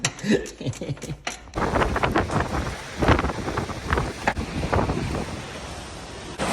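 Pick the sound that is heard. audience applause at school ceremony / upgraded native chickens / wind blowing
wind blowing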